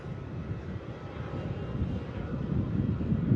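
Qantas airliner from Sydney on final approach to runway 16 at Melbourne Airport, a steady low jet engine roar that slowly swells as it draws nearer, heard alone without voices.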